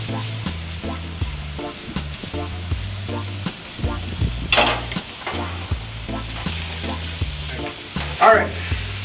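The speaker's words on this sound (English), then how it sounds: "after a couple of minutes of sauteing these right here, we don't want them all too well done" Skirt steak and shrimp sauté in a hot pan with a continuous sizzle, punctuated by repeated scraping and stirring strokes and a couple of louder bursts of spattering.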